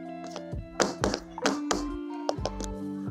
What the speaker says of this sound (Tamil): யாரோ கதவை தட்டுறாங்க, போய் பாரு யாருன்னு.